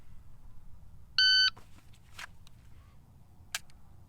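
A shot timer gives one sharp electronic beep during dry fire practice, followed by a few faint clicks and handling noises in a quiet room.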